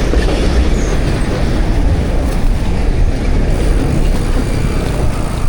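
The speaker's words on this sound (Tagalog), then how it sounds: "Grabe, ang lakas ng hangin." Strong wind buffets the microphone while travelling by road through Sorsogon, giving a loud, steady low roar throughout with no talking.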